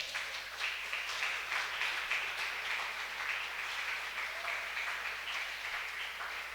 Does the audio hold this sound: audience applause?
yes